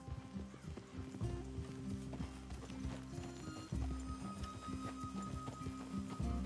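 Horse hooves clip-clop at a steady walking rhythm, close and clear, in the Red Dead Redemption 2 video game, with occasional snorts and light background game sounds.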